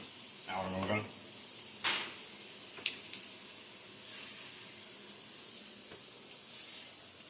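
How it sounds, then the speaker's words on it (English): Asparagus sizzles in a hot pan as a steady, soft hiss, with a few clinks and stirs of the pan and a brief voice near the start. "getting compliments on your sizzling asparagus"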